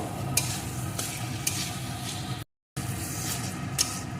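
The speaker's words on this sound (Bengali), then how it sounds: "ছানাটাও মশলার সাথে একটু কষিয়ে নেব" Chhana (paneer) fries with masala in a loud, constant sizzle, stirred with regular scraping strokes. A brief dropout cuts the sound midway.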